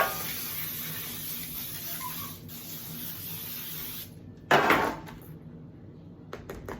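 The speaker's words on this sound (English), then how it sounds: "I'm just gonna use our baking spray. Make sure we spray our pan on 9x13." A steady hiss of baking spray sprayed into a 9x13 pan that runs for several seconds, then stops, followed by a clatter and a few light knocks.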